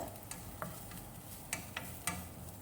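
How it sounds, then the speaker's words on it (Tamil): Cauliflower Manchurian with capsicum sautéed in a pan: a soft, steady sizzle close by, broken by a few light clicks of the spoon against the pan. "ஒரு ரெண்டு நிமிஷத்துக்கு இந்த மாதிரி நல்லா கலர் சேஞ்ச் ஆகிற வரைக்கும் வதக்கிக்கோங்க"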